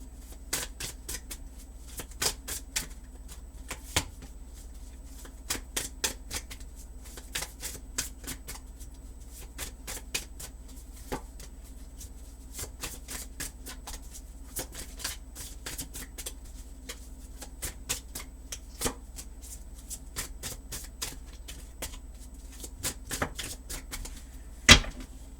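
Tarot cards are shuffled by hand in a quiet room, giving a long run of soft, irregular riffling and tapping clicks that carries on steadily and faintly throughout.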